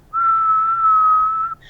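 A person whistles one steady, clear, sustained note, loud and close, for well over a second with no voices around it.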